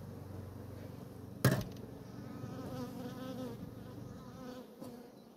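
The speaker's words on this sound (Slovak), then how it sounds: "Včely sú trošku rozbáznené" Honeybees buzzing steadily at an opened hive in spring, a close, continuous drone with a sharp knock partway through.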